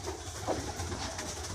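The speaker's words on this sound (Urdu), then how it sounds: "اور اگر اس طرف آتے ہیں تو کبوتر دیکھنے کو ملتے ہیں، پیجن." Pigeons kept on a farmhouse property coo softly against a steady outdoor background, a low murmuring call that sits close and fairly quiet with no voices.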